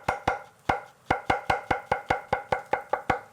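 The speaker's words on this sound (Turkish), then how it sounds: "ben bir yandan mantarlarımı ince ince doğruyorum" A knife slices mushrooms thinly for a creamy mushroom entrecote, about fourteen crisp, evenly spaced chops in a quick steady rhythm, close and clear with no talking.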